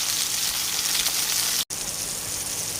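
Chillies, tomato and mango sizzle while frying in a pan for a chutney, a steady hissing crackle at close range with one brief silent gap and no talking.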